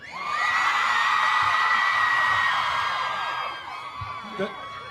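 Large crowd of fans at a Hollywood Walk of Fame star ceremony for New Kids On The Block screaming loudly and continuously, a dense high-pitched roar that fades after a few seconds into scattered cheers.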